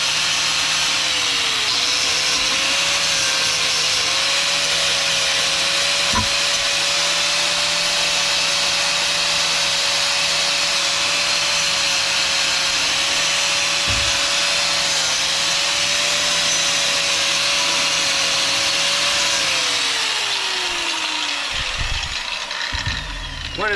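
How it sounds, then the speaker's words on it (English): A wire wheel on an angle grinder scours rust from the brake surfaces of a 2011 Nissan Altima 2.5 SL during a front pad and rotor job: a loud, steady whirring drone that holds for about twenty seconds before winding down. "I'm going to take this wire wheel that's on a grinder here, and I'm going to just kind of clean up these surface areas right here real quick."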